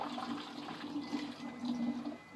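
Kombucha poured from a wide-spouted jar, a steady liquid rush and gurgle lasting a couple of seconds at close range with no talking.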